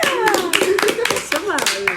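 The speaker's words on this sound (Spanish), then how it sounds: "Por favor, un aplauso para Fernanda." A few people clap for Fernanda at a radio show, quick irregular hand claps close by, mixed with voices talking and someone speaking over them.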